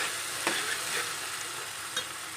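Asafoetida (hing) sizzling in hot oil while being stirred in a pan for chhole, a steady frying hiss with a couple of soft spoon scrapes.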